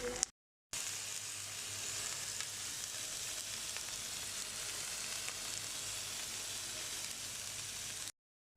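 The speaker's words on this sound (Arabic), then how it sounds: "نعمل البصل المكرمل اهو، حاطين عليه معلقه سكر" Onions caramelizing with a spoonful of sugar, giving a steady, soft, even sizzle that runs unbroken between short silent gaps at the start and end.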